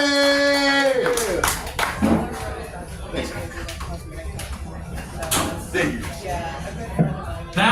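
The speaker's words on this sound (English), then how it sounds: "Let's clap it up for our first comic of the night" A comedy show audience at the Streamline Hotel in Daytona Beach claps as a comedian comes to the stage, with scattered applause and cheers mixed with a host's voice and crowd chatter.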